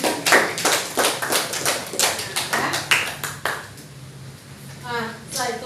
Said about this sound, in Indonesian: tepuk tangan untuk Nur Anissa